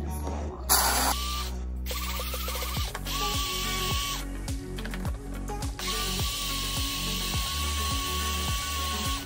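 A Capresso grinder on a 4-cup espresso and cappuccino machine setup grinds coffee beans to a medium coarseness, a close rattling, ratcheting whir in repeated bursts with brief pauses between them.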